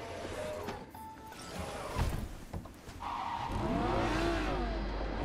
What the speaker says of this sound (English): Yeah, it sounds like a muscle car too.